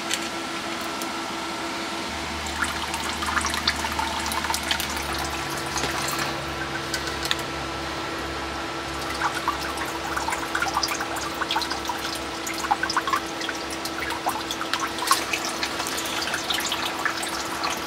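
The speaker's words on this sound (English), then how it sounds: "So I wanted to show kicking the water on and seeing what's coming out of it right to start." Water flowing through a greenhouse compost-heating system, a steady broadband rush with a low pump-like hum beneath, continuous and fairly close for the whole stretch, with no talking.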